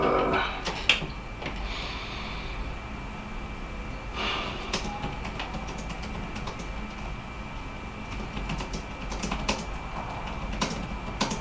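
Fingers tap steadily on a computer keyboard, a quiet close run of clicks and key presses with no talking.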